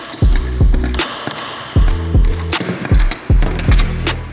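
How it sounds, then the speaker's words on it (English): A ratcheting wrench tightens nuts on roof top tent mounting hardware on an Audi Allroad, giving bursts of quick clicking pawl ratchets with a resonant metallic ring, close and loud, about five strokes in four seconds. "I just want to get it on a wrench so I can tighten it."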